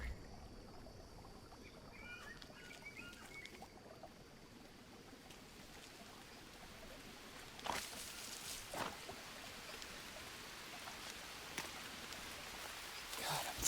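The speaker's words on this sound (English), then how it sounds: "And now the river water joins in with the rain to soothingly mock me." Rain and a flowing jungle river in the Green Hell survival game, a soft, steady wash of pattering drops and trickling water heard at a distance, with a few sharper splashy bursts later on.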